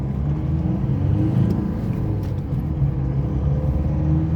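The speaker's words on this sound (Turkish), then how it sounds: "Ondan sonra üçüncü viteste dip gaz yapacağız." A car accelerates at full throttle in third gear during a clutch pressure plate test. The engine gives a steady, loud, close rumble that holds strong throughout, with no talk over it.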